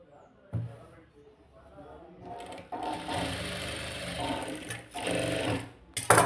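A sewing machine stitches a blouse made of slippery fabric, running in several bursts of rapid mechanical whirring of varying length, with someone talking in between and over it.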